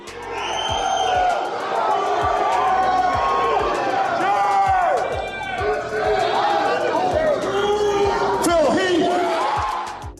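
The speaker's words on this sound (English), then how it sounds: "his victory was met with thunderous applause and admiration from fans and fellow competitors" A large arena crowd at the Mr Olympia bodybuilding contest cheers and applauds the newly declared winner, a loud, dense roar with whoops and shouting that stays strong throughout, while an announcer's voice talks over it.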